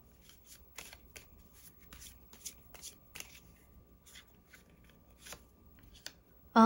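Tarot cards shuffled by hand in a steady series of crisp riffling and slapping bursts, close and fairly soft, ending in a sudden louder noise; no talking.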